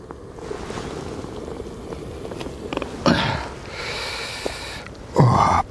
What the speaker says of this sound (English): just set up my jet boil to get a coffee on the go